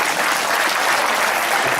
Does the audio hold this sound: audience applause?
yes